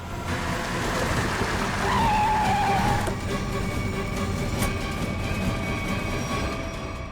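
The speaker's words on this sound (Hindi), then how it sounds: "गाड़ी रोक रोक रोक रोक रोक।" A car skids to a stop, a rising tire squeal over a loud rumbling engine and road noise, then the vehicle keeps idling with a steady drone.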